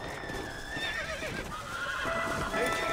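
Horse in the video game Red Dead Redemption whinnying with a shrill, wavering neigh over steady ambient noise and faint hoof clops, no talk present.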